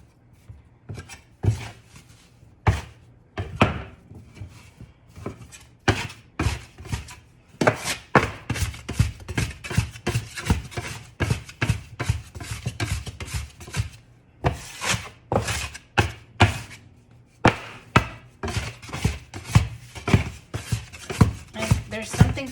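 Sourdough dough slammed repeatedly onto a kitchen counter, a long run of sharp, loud, close thuds in an irregular rhythm with short gaps, with no talk over them.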